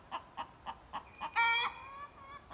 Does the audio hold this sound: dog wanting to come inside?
no